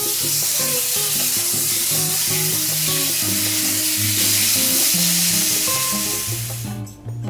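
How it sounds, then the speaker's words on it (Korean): Beef slices frying quickly in oil in a hot pan over medium heat, a steady loud sizzle running throughout alongside melodic background music. "팬이 뜨거워지면 중불로 줄이고 고기를 넣어 빠르게 익혀주세요."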